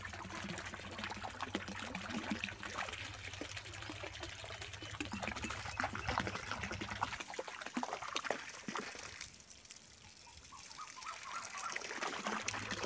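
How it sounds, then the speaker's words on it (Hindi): A submerged Tullu water pump runs while water pours and trickles steadily, a continuous splashing flow throughout that grows quieter near the end. "गाइज आप देख सकते हैं किस तरह से वाटर पंप यानी कि टुल्लू पंप वर्क कर रहा है।"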